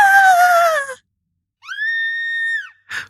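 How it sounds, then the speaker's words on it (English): Sci-fi movie scream effects: a shrill, falling scream, a pause, then a second long sustained scream with a steady pitch, and a brief final burst, all loud and isolated. "we have the screams. They're not Wilhelm screams."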